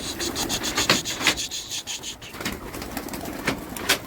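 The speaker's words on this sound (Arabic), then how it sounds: "هات لي الحمام وهو طاير يا معلم" Pigeons, one of them an Abbasi pigeon with a message written on its leg, are handled and released to fly. Close rustling and scraping comes in bursts, with a few sharp flapping surges, and no talking.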